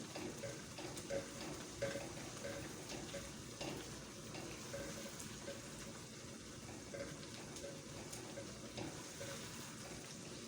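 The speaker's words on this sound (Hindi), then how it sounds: "बस इसको अच्छी तरह भून लेंगे" A shakshuka mixture fries steadily in a pan, a continuous soft sizzle with faint bubbling and occasional light clinks, low in level and without talk.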